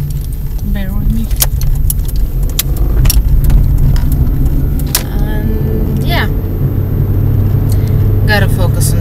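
A car driving on a road through a roadworks area, its steady engine and road rumble running continuously and loud throughout, with keys jangling intermittently nearby and occasional speech mixed in.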